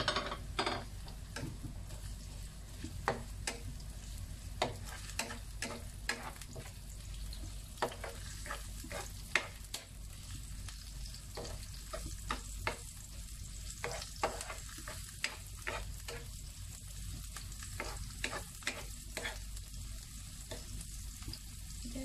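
Garlic and onion for pancit bihon canton guisado sauté in hot oil, a steady close sizzle with scattered crackles and spatula taps running throughout, no voices.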